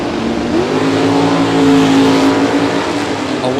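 A Mustang and a Nova launch side by side at a drag strip during a bracket race, engines roaring loud and close with rising, sustained revs.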